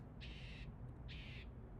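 A bird calls outdoors from up in a tree with two faint, separate, drawn-out calls in a row, distant over a low background rumble.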